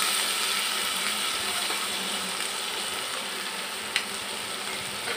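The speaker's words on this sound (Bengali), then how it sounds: "এখন এখানে দিয়ে দিচ্ছি কেটে রাখা চিচিঙ্গা।" Chopped snake gourd sizzles in a hot pan with egg, a steady dense frying hiss throughout with one small clink near the end, close and even in level, without speech.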